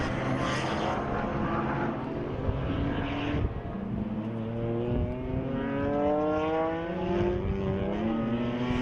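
BMW M Performance Parts race cars sweep into the bottom corner at turn 6, several engines droning loudly together with pitches rising and falling as they brake and accelerate through the bend.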